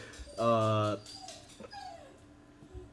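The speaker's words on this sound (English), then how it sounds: "I always hear my dog barking in the back." A dog lets out a loud, short whining yelp, then a couple of fainter yips follow, with faint talking in the background.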